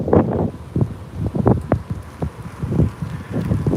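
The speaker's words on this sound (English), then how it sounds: "You can hear that wind." Wind rushes against a Trek FX2 2023 aluminum hybrid bike ridden into a headwind, producing close, gusty rumbling buffets on the microphone that continue unevenly throughout.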